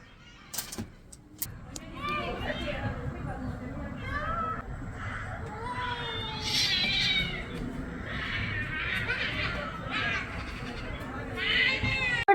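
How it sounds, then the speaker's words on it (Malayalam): Cats yowl and screech at each other in a drawn-out, rising-and-falling caterwaul, moderately close, with scuffling noises and a few sharp knocks. "പൂച്ചയുടെ ഒരു അടിപിടി കേൾക്കുന്നുണ്ടായിരുന്നു"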